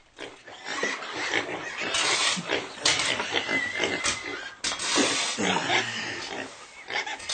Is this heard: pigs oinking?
yes